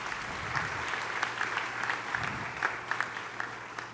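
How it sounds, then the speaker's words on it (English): Steady applause from the audience at a university vice chancellor's welcome address for first-year students, dense clapping filling the hall at even loudness with a low hum underneath, honouring Dr. Clement Moreko. "can we give Dr. Clement Moreko a huge round of applause?"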